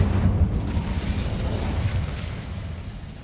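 A short Incendio fire spell blast in Hogwarts Legacy erupts as a loud, rumbling burst, then fades into a crackling, low roar over about three seconds.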